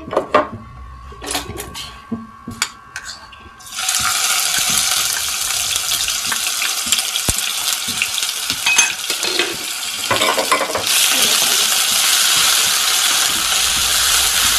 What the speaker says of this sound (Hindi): उसको फ्राई करेंगे